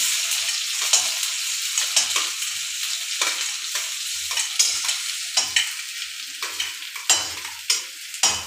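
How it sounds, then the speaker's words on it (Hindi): Green chillies frying in a pan as the first step of making Maggi noodles, a loud, close, continuous sizzle broken by repeated stirring scrapes, no voices. "मिर्चा को फ्राई होने दीजिए"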